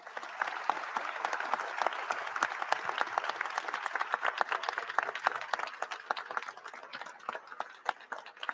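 Sustained audience applause at an official event with the Artemis II crew present, dense steady clapping from a sizable crowd throughout, loud and continuous with no talk.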